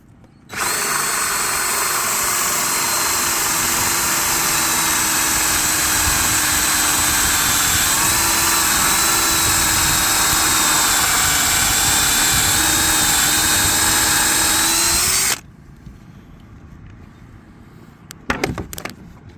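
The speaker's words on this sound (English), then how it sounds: "Gordon, we're drilling another hole in the boat." A power drill whines loudly and steadily for about fifteen seconds, its pitch wavering slightly as it bores a hole through a C&C 39 sailboat hull, then stops, leaving faint handling noises.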